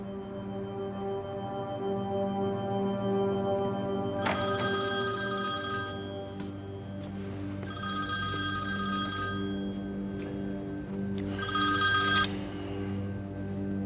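A telephone rings in three separated bursts of bright trilling bell tone over a steady low hum, each ring lasting a couple of seconds with pauses between.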